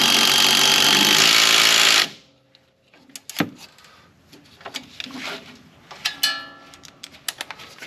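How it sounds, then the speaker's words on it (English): An impact driver spins a nut with an 8 mm end during suspension work on a 2015 Ford Mustang GT: a loud, close, buzzing two-second burst, followed by scattered metallic clicks and clatter of parts. "So I'm just going to use this here impact driver."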